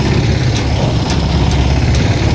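Farm tractor engine running during a tractor ride, a steady low rumbling drone with constant loudness and no talking.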